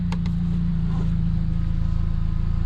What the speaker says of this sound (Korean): 뒤에 머플러 쪽에서 살짝 소리가 나는 것 같아요